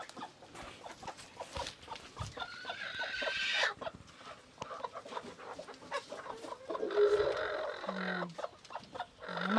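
Rhode Island Red and Black Australorp chickens cluck and murmur close by in bursts on a farm, with occasional louder squawks from a hen among the flock.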